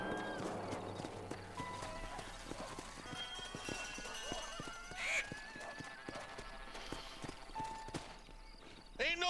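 Horses clip-clop at a steady walk in Red Dead Redemption on PS5, hooves thudding in a regular rhythm with an occasional whinny, under faint background voices and ambient game sound.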